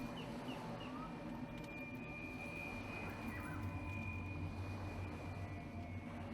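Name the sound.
propeller plane engine starting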